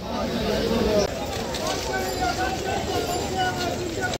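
A local train standing at Sonarpur station, giving a steady rumbling hum and rattle with station bustle and people talking over it.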